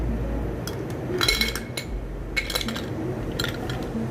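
Ice cubes clink against a glass and each other in a few separate bursts of bright clattering, close and fairly loud, as five cubes go in for iced drip coffee.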